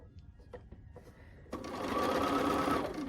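A sewing machine stitches quilt fabric in a steady, close run that starts abruptly partway through and continues to the end, preceded by quiet handling clicks.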